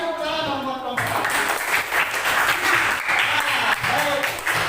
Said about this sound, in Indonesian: Kasih tepuk tangan dong buat kelompok 1.